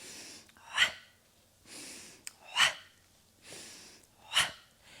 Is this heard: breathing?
yes